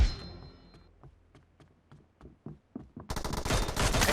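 Gunfire in the PUBG Mobile video game: a string of separate sharp shots, then a dense, loud burst of rapid automatic fire near the end.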